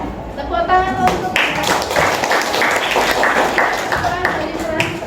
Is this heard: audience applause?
yes